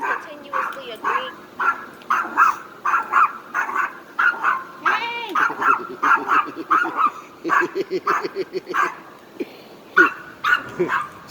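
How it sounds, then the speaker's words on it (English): A small dog barks and yips in rapid, repeated bursts close by, sometimes whimpering, with people talking around it. "that's a good dog"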